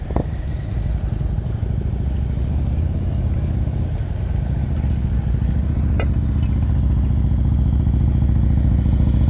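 Motorcycle engine idling and puttering at low speed during slow U-turn practice through a friction zone, a loud, close, steady low rumble that holds throughout with a couple of faint clicks.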